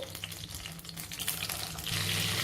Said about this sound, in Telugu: మీడియం ఫ్లేమ్లో ఈ వంకాయల్ని ఇలా తిప్పుకుంటూ ఫ్రై చేసేసుకోవాలండి